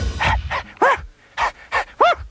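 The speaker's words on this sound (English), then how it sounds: "He let out a loving howl." Cartoon dog voicing a series of short, nasal yowling bursts in an uneven rhythm, about six loud close calls with brief gaps, alone without talk.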